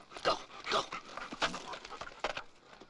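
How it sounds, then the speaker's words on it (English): Dogs on the set of the 1977 horror film The Hills Have Eyes make several short, fairly faint vocal bursts, yelps mixed with whimpering and panting, spaced irregularly over a few seconds. "The dogs were delightful."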